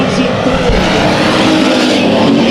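Race cars roar around a dirt oval during heat races at KCRP in a steady, loud engine drone that swells as the cars pass, with a voice faintly audible beneath.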